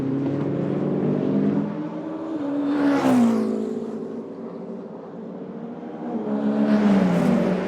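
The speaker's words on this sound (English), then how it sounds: "He too attacking Julian Andlauer down into the first corner." Endurance race cars at the FIA WEC 8 Hours of Bahrain drive down into the first corner, two loud engine passes swelling up and fading with shifting pitch, no talking.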